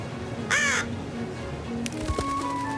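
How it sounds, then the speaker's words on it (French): One clear crow caw rings out, followed by fainter bird calls and a soft background hum. "il y a le corbeau"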